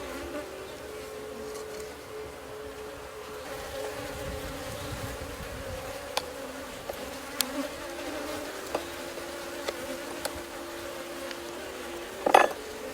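Bees buzz steadily around a beehive, a continuous low drone with faint clicks and a brief louder close pass near the end, no talking.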